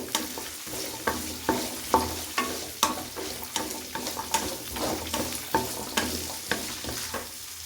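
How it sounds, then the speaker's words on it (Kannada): Small onions frying in oil for a sambar, a constant close sizzle punctuated by regular scraping strokes of a spoon stirring in the pan. "ಈ ಥರ ಚೆನ್ನಾಗಿ ಎಣ್ಣೆಯಲ್ಲಿ ಸ್ವಲ್ಪ ಹುರ್ಕೊಳ್ಬೇಕು."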